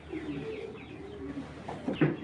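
A male Mayna jak pigeon, a rooftop bird, gives low throaty coos nearby that swell at the end, over quiet background noise.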